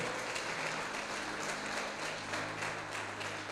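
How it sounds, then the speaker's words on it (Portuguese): A church congregation applauds steadily throughout, a dense wash of clapping at moderate level, with a low sustained tone, likely an organ or keyboard, underneath and no speech. "Você pode aplaudir"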